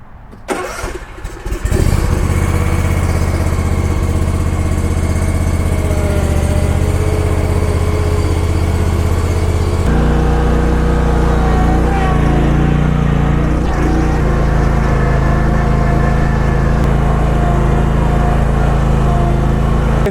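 A Bad Boy ZT Elite zero-turn mower starts up and then runs steadily at a loud, constant engine drone, with a slight change in pitch partway through as it is driven outdoors.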